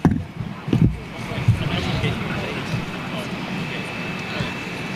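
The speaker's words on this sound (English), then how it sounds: "Looks like KLM's 737 inbound here" KLM Boeing 737 arriving at Heathrow, a steady distant jet rumble and hiss with a thin whine, preceded by a few sharp thumps near the start; faint voices murmur underneath.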